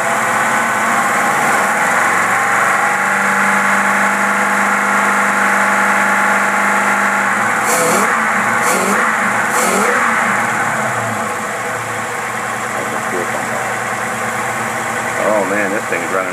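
A carbureted car engine with a Rochester 4-jet carburetor idles steadily with a smooth, even hum, a few brief clicks and knocks partway through, close by.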